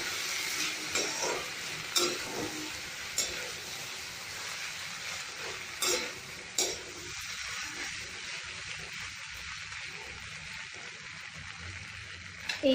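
Chilli potatoes with a cornflour slurry sizzle and fry steadily in a pan, with repeated scraping stirs early on and then a softer continuous hiss, close and fairly quiet.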